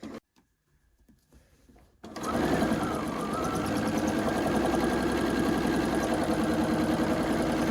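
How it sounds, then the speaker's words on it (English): A sewing machine fitted with a walking foot stitches through thick layered quilt rows. After a few quiet clicks it starts up and hums loud and steady to the end. "this is where we will start sewing. I switched to a walking foot."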